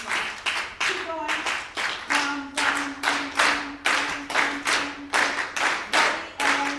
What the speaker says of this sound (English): I want this part of the audience to clap the habanera.